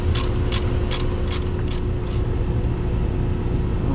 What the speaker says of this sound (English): we're gonna go around all 4 bolts